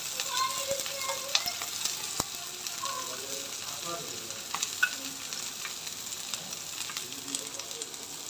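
Boiled potato and yardlong bean mash frying in a pan, an even hissing sizzle with occasional spatula taps and scrapes, faint background voices now and then.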